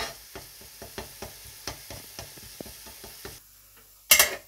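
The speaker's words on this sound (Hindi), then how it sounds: "तकरीबन 7 मिनट हल्की आंच पर पकाने के बाद लहसुन की ये कंडीशन है" Garlic frying on low heat in a pan for chicken dum biryani, stirred briskly: a soft sizzle carries a quick, even series of light scraping ticks, then a brief louder clatter near the end.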